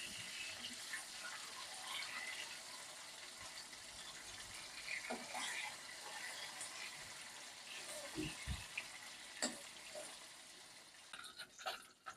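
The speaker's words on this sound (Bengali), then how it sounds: "মাছগুলো ভাজা হয়ে গেছে" Steady, broad hissing sizzle of fish frying in oil, with scattered crackles and pops throughout.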